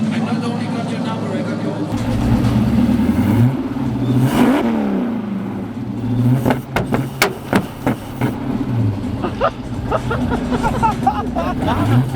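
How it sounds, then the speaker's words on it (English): A Ford Capri engine idles then revs in several sharp bursts, loud and close, with crowd chatter in the background. "Can you, Johannes, can you give it a couple revs here?"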